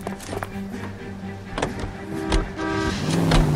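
Car driving in the video game L.A. Noire, a steady engine hum with low rumble and occasional mechanical thumps and knocks, heard up close with no talk.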